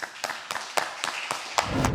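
Audience claps at a live startup pitch event in New York, a sparse, quiet round of distinct claps heard from a distance.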